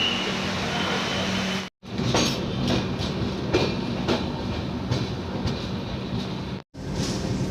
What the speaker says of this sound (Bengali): ট্রেনটা নির্দিষ্ট সময়ে কলকাতা স্টেশন ছেড়ে দিল